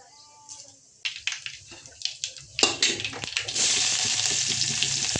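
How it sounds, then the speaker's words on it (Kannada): Urad dal, mustard seeds and green chillies fry in hot oil in a pan with onion. A few crackles and pops grow into a loud, steady, close sizzle. "ಉದ್ದಿನಬೇಳೆ ಈ ಥರ ಹೊಂಬಣ್ಣ ಬರೋಂಗೆ ಫ್ರೈ ಆಗಿರ್ಬೇಕ್ರಿ"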